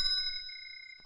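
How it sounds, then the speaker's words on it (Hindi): An old landline telephone rings in a 90s Hindi action film scene, giving a steady sustained electronic ring tone for about a second with faint background noise. "लो भैया बज गई आपकी घंटी।"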